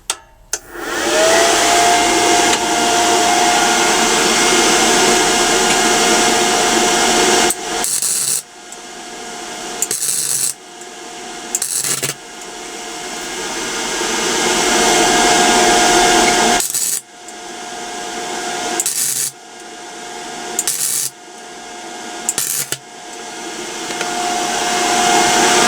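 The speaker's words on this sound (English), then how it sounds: "let's fire this welder back up" A Hitbox MT2000 II welder welding metal: a loud, steady crackling hiss with a sustained tone runs in long bursts, stopping and restarting several times with short gaps between arcs, close and without talk.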